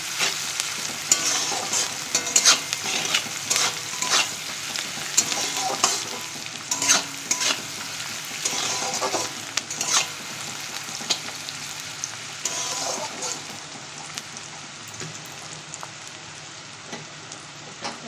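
Sliced onions sizzle steadily in a hot pan with a pinch of salt added, while a utensil scrapes and stirs in frequent strokes, close and continuous with no talk.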